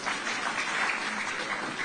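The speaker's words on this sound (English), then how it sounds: "I think we can clap for Nigeria." An audience at a democracy anniversary event in Nigeria breaks into steady, sustained applause, a dense wash of many hands clapping at even loudness from start to finish.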